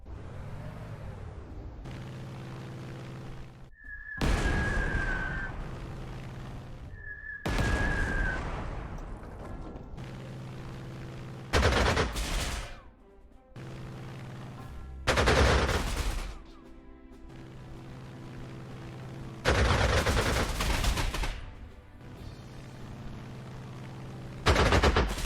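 Artillery fire in the strategy game Panzer Corps 2, heard as a series of loud, broadband blasts and bursts recurring every few seconds over a steady game soundtrack, with two brief whistling tones early on.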